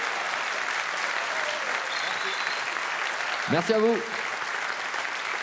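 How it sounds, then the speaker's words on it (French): Broadcast audience applause for KKC Orchestra at a regional music talent competition, a steady wash of clapping throughout, with someone briefly speaking over it partway through. "Applaudissements pour KKC Orchestra."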